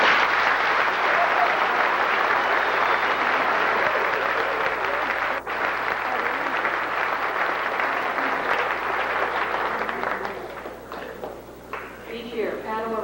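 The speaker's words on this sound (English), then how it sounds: "Would you now applaud these students?" Sustained audience applause for scholarship students at a school ceremony, full and even clapping that fills the room for about ten seconds before thinning out as a voice starts to speak.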